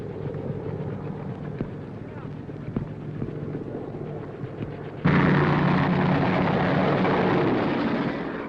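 A helicopter arriving for an emergency medevac, a dense rotor roar that jumps suddenly louder partway through and stays close and heavy.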